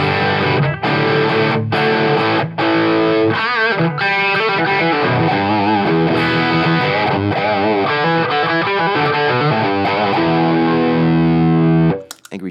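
An electric guitar through a Wampler Pinnacle distortion pedal plays loud, saturated chords and riffs, with a few short gaps between strums early on and a sustained, dense crunch that cuts off abruptly at the end.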